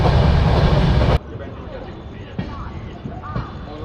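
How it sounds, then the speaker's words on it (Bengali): Kolkata–Radhikapur Express running at speed: a loud rushing roar for about a second, then a quieter interior rumble with occasional knocks and clicks. "ট্রেন বেশ ভালো স্পিডে চলছে"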